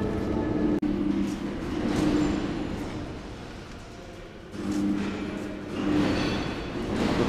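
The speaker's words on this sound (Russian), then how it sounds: "такой тепловозик" A diesel locomotive rumbles at a railway repair depot, a low steady drone that swells and fades in broad waves, with one sharp click near the start and no talking.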